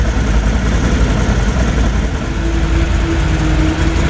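Steady close idle of a 2019 Can-Am Outlander 1000R twin-cylinder ATV, a constant low throbbing rumble with no talk over it.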